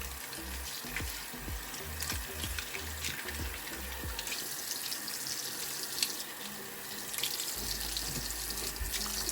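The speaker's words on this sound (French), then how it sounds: "Ensuite, je rince." Makeup brushes rinsed under a running sink tap, water splashing and gurgling steadily with a few scrubbing clicks, close and moderately quiet, no voices.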